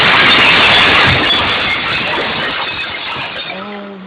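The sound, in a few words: glass breaking and falling down an escalator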